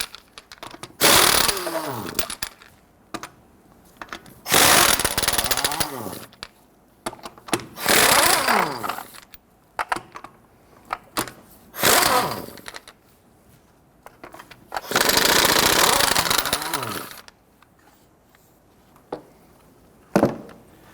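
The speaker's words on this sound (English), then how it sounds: "Using a 21mm socket, go ahead, loosen and remove your lug nuts." An impact wrench or ratchet spins lug nuts loose with a 21mm socket on a Nissan Frontier front wheel, several loud whirring bursts of a few seconds each separated by pauses, plus short clicks near the end.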